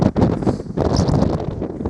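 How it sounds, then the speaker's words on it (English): Strong gusts buffet the microphone on the hilltop of Dunkery Beacon at night, a loud rough roar of wind with no voices. "it's a bit windy"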